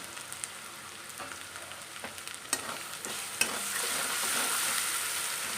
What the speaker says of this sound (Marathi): बघा आता आपला लसूण मिरची भाजलेला आहे।